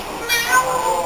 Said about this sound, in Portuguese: Aqui você tem um gatinho, que ele é criado lá na rua.